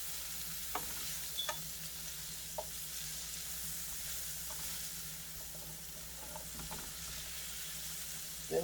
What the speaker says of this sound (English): Then we're going to let that sit a little bit and saute itself a little bit.